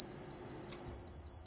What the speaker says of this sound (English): Oh, that's an alarm.